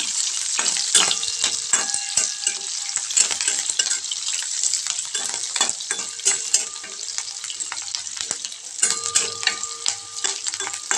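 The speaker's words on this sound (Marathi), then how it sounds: "आणि कांदा छान तळून घ्यायचा।" Chopped onion and curry leaves fry in hot oil in a pan for a cowpea pod curry, giving a loud, continuous crackling sizzle with occasional scraping stirs and light utensil clinks.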